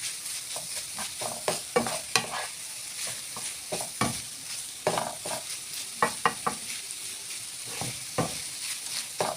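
Minced meat and onions sizzle in a frying pan while a utensil stirs them in a steady run of scraping clatters, close and fairly loud, with the hiss of frying holding underneath.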